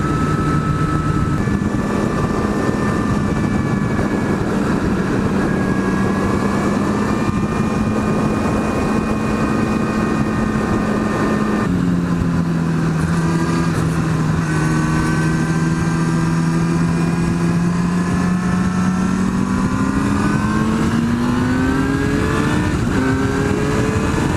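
A Kawasaki ZX-10R motorcycle engine drones continuously while being ridden, with a buzzing tone that slowly rises and falls as it speeds up and eases off. Steady and loud, no speech.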